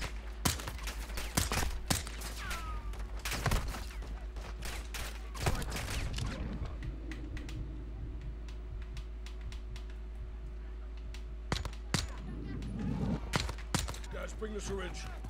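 Sporadic gunshots crack out in bursts during a Modern Warfare II campaign mission, loud near shots separated by quieter gaps, with a voice talking at points between them.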